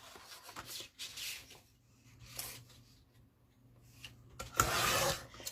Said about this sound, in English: So grab your trimmers. And we are going to cut 2 at 6